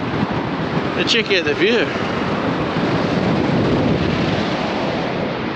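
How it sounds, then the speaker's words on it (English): Strong coastal wind on Victoria's Great Ocean Road buffets the microphone in a constant roar, with a brief spoken remark near the start. "This is the windy side. In case you couldn't tell, it's windy."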